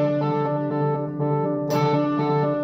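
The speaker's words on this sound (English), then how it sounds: "So what you're hearing is it's jumping," A distorted electric guitar tone runs through a Pitchfork+ octave pedal controlled by an OBNE Expression Ramper. The tone holds steady, then leaps up to the octave near the end and drops back, loud and alone.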